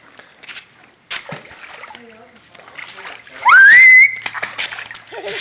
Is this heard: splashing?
yes